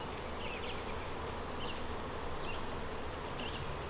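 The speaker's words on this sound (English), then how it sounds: "this box that's just packed full of bees, lots of young bees in there" Honeybees buzz in an open beehive box packed with young bees, a steady, fairly faint drone close by with a few brief louder passes of individual bees.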